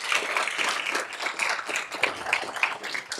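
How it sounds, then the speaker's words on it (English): A school board meeting audience gives a round of applause for school nurses, a lively, uneven patter of many hands clapping close by, with a few sharper individual claps standing out. "Can we give them a special round of applause?"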